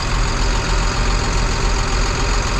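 A feed truck's engine runs steadily on a dairy farm, a loud, close, broadband rumble that holds constant without pause.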